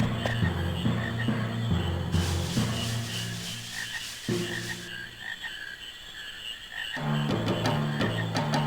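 Frogs croaking in the Final Fantasy IX video game, a continuous chorus of croaks mixed with game music and effects, steady throughout with no speech.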